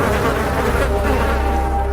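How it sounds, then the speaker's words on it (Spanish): A dense swarm of flies buzzes steadily and loudly, up close, a continuous droning hum with no pauses throughout. "El enjambre de moscas adentro tocaban una ópera de terror."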